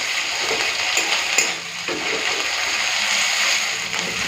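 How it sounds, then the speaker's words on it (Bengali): Onion sizzles and fries in a pan with ginger-garlic paste, a steady hiss with a few soft stirring scrapes, close and continuous with no talk. "এরপর দিয়ে দেবো আদা রসুন বাটা একটুখানি ভেজে নিই"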